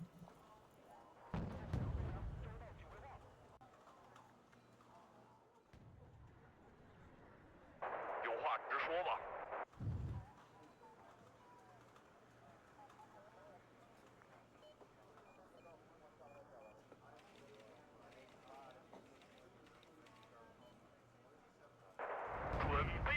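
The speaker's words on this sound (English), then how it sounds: "Get a mortar." Mortar artillery fire in the war strategy game Wargame: Red Dragon, with several loud, booming blasts spread out over a quiet battlefield background hum.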